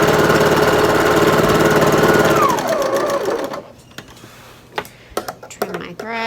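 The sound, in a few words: sewing machine sewing the last seam of a quilt row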